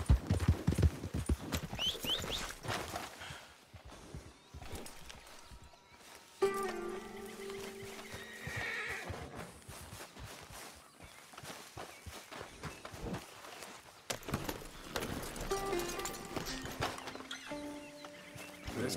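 Horse hooves clip-clop steadily in Red Dead Redemption 2, shifting between a walking and a running rhythm, with a faint whinny and game ambience around them.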